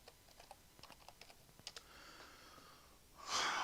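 Quick, uneven keystrokes clatter on a computer keyboard, a short burst of close typing followed by a louder rustle at the end.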